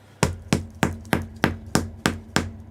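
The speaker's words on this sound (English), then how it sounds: "Sounds like someone hammering a nail" Eight sharp, evenly spaced knocks ring out as the solid chin of a sturdy hard-mold zombie mask strikes a desk, close and loud, sounding much like a hammer driving a nail.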